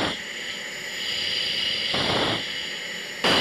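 A Dassault Rafale jet engine roars steadily under throttle inside the cockpit, a broad whooshing hum that swells briefly midway and surges again at the very end, with no talk.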